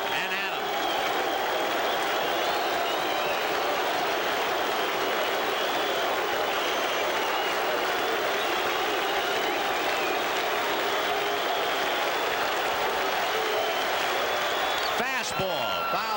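A baseball stadium crowd at a 1986 World Series game between the New York Mets and the Boston Red Sox keeps up a steady, loud roar of cheering and clapping, with a broadcaster talking over it.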